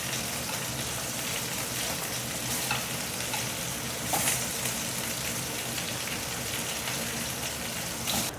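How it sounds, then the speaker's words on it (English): Pork ribs fry in oil in a pan over low to medium heat, giving a steady, dense sizzle with light crackle that runs without a break. No voices are heard. "Now you want to use either low to medium heat to fry this because you don't want the pork ribs to burn."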